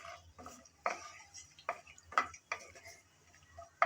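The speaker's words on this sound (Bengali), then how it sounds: "হালকাভাবে নেড়েচেড়ে মিশিয়ে নিলাম" Whole bay leaves, cinnamon and cardamom are stirred in a pot for a beef and whole garlic dish, giving faint, irregular scraping clicks and light taps against the pot.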